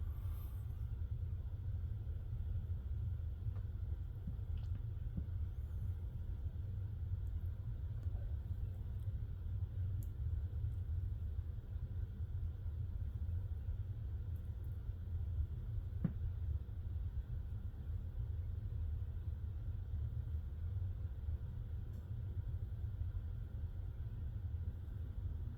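CN 2994 freight train locomotive accelerating at West Ladysmith, heard as a steady, continuous low rumble from a distance with no talking.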